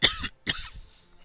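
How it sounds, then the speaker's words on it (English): A person coughs twice in quick succession, close and fairly loud, with a short throaty tail after the second cough and no talking. "Apologies for any weird breathing or stuff or coughing that pops up in this one."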